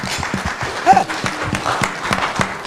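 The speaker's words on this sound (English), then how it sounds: "I believe that before we need to clap for A+." Guests at a political party dinner with celebrities clap briefly, uneven close hand claps over a murmuring room, with a short vocal sound cutting in partway through.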